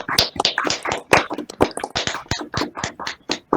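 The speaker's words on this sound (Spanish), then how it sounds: "Les pido primero a todos abrir sus micrófonos para un aplauso a Johan" Sparse, separate hand claps from a few participants in an online meeting after a talk on handwritten digit classification, sounding close and uneven rather than like a blended crowd.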